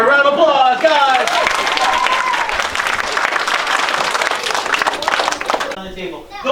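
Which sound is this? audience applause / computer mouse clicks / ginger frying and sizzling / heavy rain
audience applause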